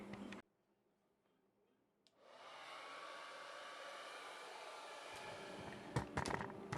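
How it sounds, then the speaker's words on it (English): A hair dryer blows excess wax off waxed lacrosse mesh, starting after a brief thump and quiet gap, then roaring steadily and close for several seconds with a few clicks and rustles near the end. "I'm gonna hit it with the hair dryer and then get rid of all that"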